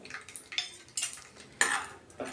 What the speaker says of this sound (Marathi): गरम झालं की त्यामध्ये आपण हे शेंगदाणे भाजून घ्यायचे आणि त्यासोबतच सुकं खोबरंही घालून घ्यायचं